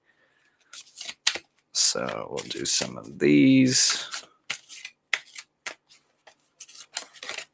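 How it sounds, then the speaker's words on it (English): Cards of a thick tarot deck are riffled and shuffled in several quick bursts, crisp and close, between stretches of someone talking. "This one is a little bit harder to shuffle because it's very thick."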